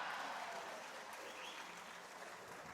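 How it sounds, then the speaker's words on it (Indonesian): An audience at a national working meeting claps loudly in a dense, sustained wash of applause that holds steady for the whole moment. "Sedikit-sedikit tepuk tangan. Tepuk tangannya keras lagi."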